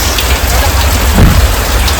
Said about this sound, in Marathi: आता चालू आहे बघा जोरात पाऊस